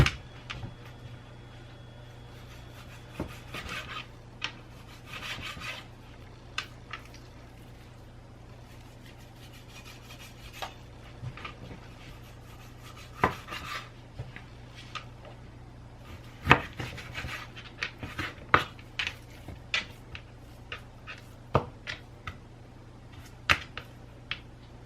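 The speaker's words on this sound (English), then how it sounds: "So I'll be cutting it into pieces" Knife chopping through chuck roast into pieces on a board for caldo de res, giving scattered sharp, close taps and thuds at an irregular pace over a low steady background hum, with no talking.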